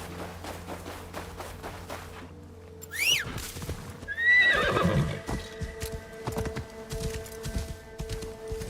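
A horse neighs twice in a video game, a rising whinny followed by a longer loud neigh, with hoofbeats clip-clopping and game background sounds around it.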